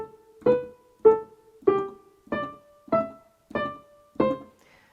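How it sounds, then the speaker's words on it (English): Short, detached piano notes played staccato, seven crisp evenly spaced strikes of a beginner sight-reading exercise, each clipped off quickly with near silence between, close and clear with no voices. "if the piece of music has the small dots that indicate staccato on them, it would sound like this."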